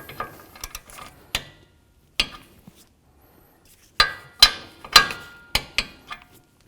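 A ratchet tightens a castle nut on a Jeep Liberty tie rod stud, giving bursts of sharp metallic clicks with pauses between, close and clear with no talk.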